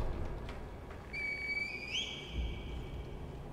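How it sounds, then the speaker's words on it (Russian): A whistle in the video game Sekiro: Shadows Die Twice: one clear, high tone rises and holds for about a second and a half, standing out over a low rumbling background. "О, как свистнул, так свистнул."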